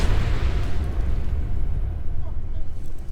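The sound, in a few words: artillery fire explosion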